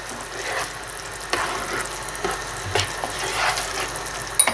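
Filipino-style fish curry simmers in a pan with a soft continuous bubbling sizzle, while a few scattered scrapes from stirring sound close and moderately loud.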